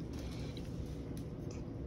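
A condo porch door creaks as it swings, a sustained grinding creak with a worn closer piston, steady and close throughout the short stretch with no talking.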